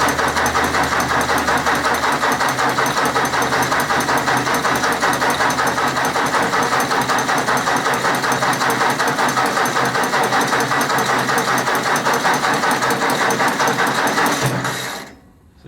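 A Ford 172 diesel engine cranks steadily and loudly for about fifteen seconds with a rapid, even mechanical chatter while the injection pump is bled, then cuts off abruptly.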